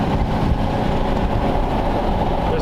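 Steady tire and road roar from a 1932 Ford Roadster cruising on a long, flat, straight road, a continuous close rumble with no breaks.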